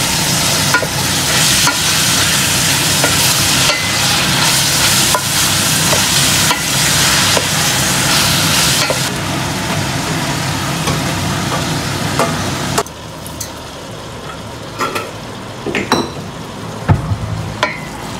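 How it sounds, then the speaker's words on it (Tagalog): Ground meat stir-fries in a pan with a loud, dense sizzle and repeated scraping strokes for most of the stretch, then drops to quieter scattered clinks and crackles. "Lalagay na natin ang giniling."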